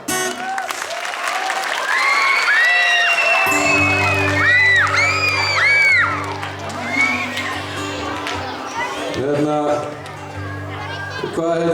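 Concert crowd applauding and cheering for themselves after drumming along at a music event in Árborg, loud and sustained with whoops and shouts, while a band plays sustained low tones underneath and voices call out.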